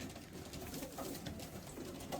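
Domestic pigeons, including tiger grizzle birds, coo and murmur softly inside a pigeon loft, a continuous low chorus of overlapping calls heard at moderate distance against a busy background.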